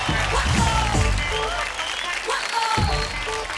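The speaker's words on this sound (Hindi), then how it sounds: "जोरदार ताली हो जाए।" Loud, sustained applause from a studio audience at a televised kids' dance competition show, steady clapping throughout with music and voices mixed in underneath.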